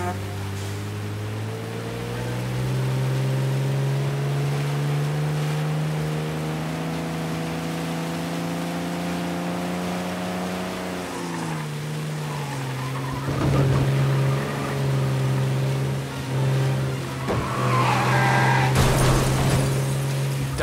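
A car chase in the Mafia Definitive Edition video game: engines roar steadily and shift pitch, and rough bursts that could be tire skids break in toward the end.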